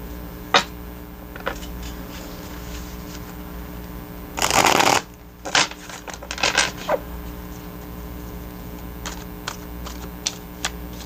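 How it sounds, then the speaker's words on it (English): A tarot card deck is shuffled in a quiet room, with soft scattered taps, one loud riffling burst near the middle, then a cluster of crisp snaps and a few more light clicks. "I shuffled and meditated over this deck"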